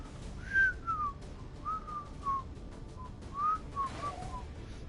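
Someone whistles a short tune of gliding, bird-like phrases against constant background noise, each phrase rising or falling and fairly close.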